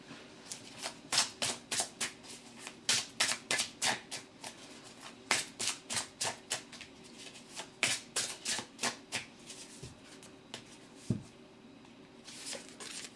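Tarot cards being shuffled by hand, a long series of crisp riffling bursts in an uneven rhythm, close and fairly loud in a quiet room with no talking.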